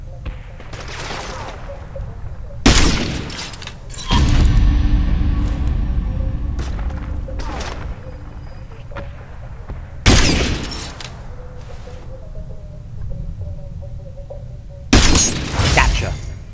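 Sniper rifle shots in the online shooter Ghost Recon Online: three loud, sharp cracks a few seconds apart, each followed by a shattering ring. A long reload clatter sits between them, with quiet game noise and occasional talk.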